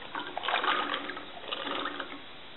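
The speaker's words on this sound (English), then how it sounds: "I'll add the soaked cannelli beans to it" Soaked cannellini beans tip into a pan of water on medium heat, giving a soft, continuous splashing and sloshing that stays fairly quiet throughout.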